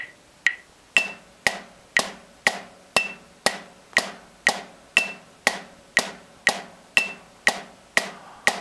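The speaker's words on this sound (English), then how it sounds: "I would actually play along with this on my practice pad." Crisp taps on a drum practice pad land evenly about twice a second, each one matched by a sharp metronome click.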